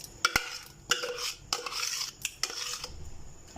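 A spoon scrapes and stirs through a thick mixture of beef and ginger, garlic and green chilli paste in a pot, with several sharp clinks against the metal between stretches of rasping.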